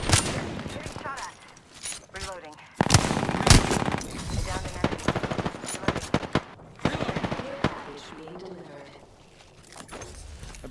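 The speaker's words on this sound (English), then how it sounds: "Getting shot at." Automatic and single gunshots in the Apex Legends video game come in repeated loud bursts with pauses between, mixed with mechanical reload clicks and in-game voice lines.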